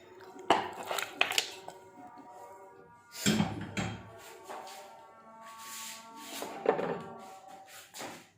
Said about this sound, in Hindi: और अब एक कढ़ाई लेंगे। इसके अंदर हम सबसे पहले मटन डालेंगे।